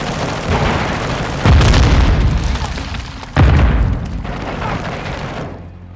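Two heavy grenade blasts in Call of Duty: Modern Warfare II, each a loud booming burst followed by a rolling decay, set against ongoing battle noise.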